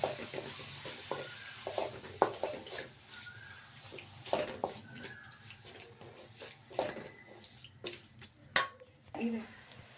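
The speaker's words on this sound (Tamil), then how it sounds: "நல்லா ஃப்ரை பண்ணி விட்டுடலாம்." Grated beetroot fries in a pan while being stirred, giving a soft, intermittent sizzle broken by scraping and tapping from the spoon, fairly quiet and close.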